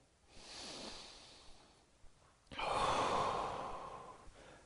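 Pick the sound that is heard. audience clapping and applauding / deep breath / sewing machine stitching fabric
deep breath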